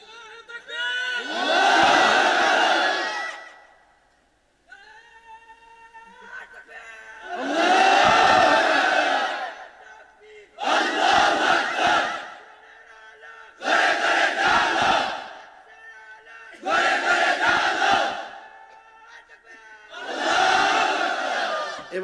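Massed voices at a religious sermon gathering shout takbir together six times in regular, loud bursts, each following a lone caller, with brief gaps where one voice leads.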